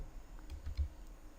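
A few quick keystrokes on a computer keyboard in a quiet room, three soft close clicks in a short burst.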